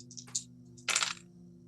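Dice clatter briefly during a tabletop roleplaying game, with a small rattle followed by a louder, longer tumble that comes to rest.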